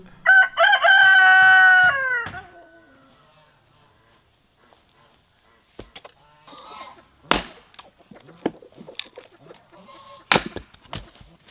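A rooster gives one loud, close crow at the start, followed by quieter scattered clucks, thumps and knocks.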